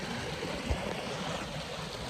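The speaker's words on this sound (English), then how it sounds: "We're right by a river." A river on Dartmoor flows steadily in the evening, a constant close rushing and gurgling wash with one faint low bump and no talking.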